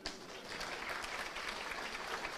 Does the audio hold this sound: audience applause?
yes